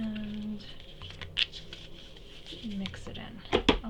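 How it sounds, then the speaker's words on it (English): Playing cards from a board game action deck being picked up and shuffled together, soft scratchy riffles and taps with a sharper flurry near the end, alongside intermittent speech. "Randomly take 1 card from the discard pile and shuffle it back into the action deck."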